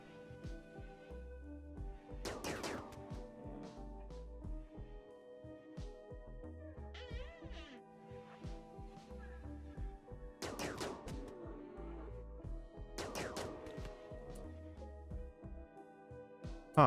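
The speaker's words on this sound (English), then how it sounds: "Come over here and shoot the rhino a few times." Gunfire in RimWorld as a colonist shoots at a rhino, sharp shots in scattered bursts over quiet game background sounds, fairly faint overall.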